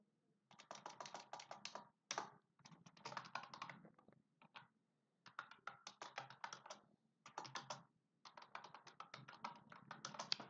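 Typing on a computer keyboard during a live TOEFL essay-writing class, rapid clicking keystrokes in bursts separated by short pauses, close and fairly quiet.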